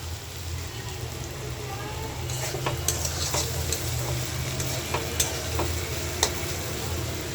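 Food sizzles steadily in a pan while a utensil stirs it, a close, even hiss dotted with a few sharp taps and clicks against the metal.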